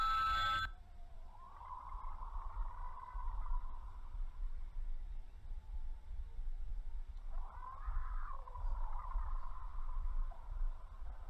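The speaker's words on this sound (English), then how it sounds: "Hey, there's a phone call for you, buddy." A telephone in the horror video game Blood Wash rings in two long trilling bursts separated by a pause, steady and fairly close, over a low background rumble, after a brief sharp opening noise.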